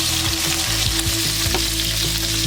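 Meatballs browning in a frying pan give a loud, steady close-up sizzle of hot oil, with faint stirring or shifting sounds under the constant hiss.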